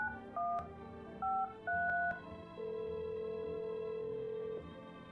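Telephone dialing in the video game No I'm Not A Human: a few separate beeping touch-tone key presses, then one long steady tone, all close and clear with no talking.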